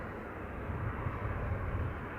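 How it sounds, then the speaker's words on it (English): A Ryanair Boeing 737-800 jet arriving at Manchester Airport gives a steady, moderately loud engine roar with a low rumble throughout, heard alone. "737-800 arriving from Katowice."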